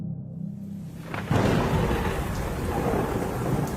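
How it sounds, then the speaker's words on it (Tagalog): Loud thunder rolls and crashes over steady heavy rain in a rainstorm, starting with a low rumble and then breaking into a sustained roar that carries on to the end, with no voices. "Napaiyak siya ng malakas habang nagsasalimbayan ng malalakas na kulog at kidlat."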